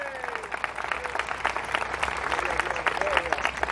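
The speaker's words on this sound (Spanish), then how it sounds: "¿Pueden dar un aplauso a Jesucristo?" A church congregation applauds with dense, continuous clapping that holds steady throughout, moderately loud with a roomy feel; a few voices and faint whistle-like tones sit in the background.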